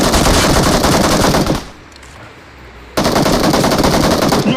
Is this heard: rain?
no